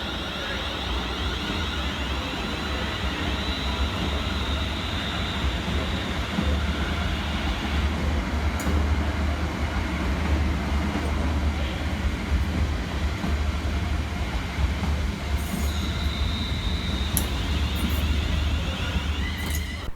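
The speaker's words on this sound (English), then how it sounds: "Next train out to depart is 350-404 and 350-244, working the 1732 London Northwestern Railway service from Crewe through to Liverpool Lime" Two coupled London Northwestern Railway Class 350 electric units at Stafford station, a steady loud rumble and hum of rolling stock near the platform throughout, with high-pitched brake or wheel squeals rising now and then.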